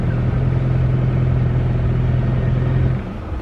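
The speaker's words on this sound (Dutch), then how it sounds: "Oh, die auto valt uit elkaar, joh" A car rumbles steadily from inside while driving, with a deep low drone and loose rattling throughout, loud and close, easing off near the end.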